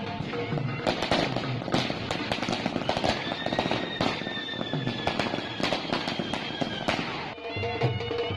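Fireworks and firecrackers set off at a city BJP office celebration in Bhavnagar, a dense, continuous barrage of sharp cracks and pops with whistling rockets rising through the middle, loud and close.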